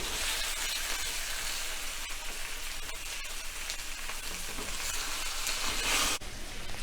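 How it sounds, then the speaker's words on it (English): Fish pan-frying for an Odia-style fish curry: a dense, steady, close sizzle and crackle of hot oil that cuts off abruptly near the end, with no talk. "So pan fry the fish nicely and cook all the fish like this."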